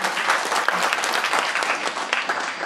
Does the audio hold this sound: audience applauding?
yes